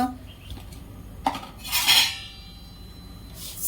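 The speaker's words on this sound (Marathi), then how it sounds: "गहू चांगले कुरकुरीत होईपर्यंत भाजायचे" Half a kilo of wheat grains dry-roasting until crisp for methi ladoo, stirred in a pan, with a few light metallic clinks and scrapes, one brighter rattle partway through, and no talking.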